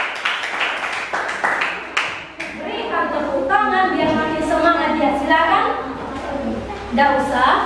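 Group clapping in an Indonesian classroom, a quick burst of claps from students at the start, then fading under a teacher's voice and children talking.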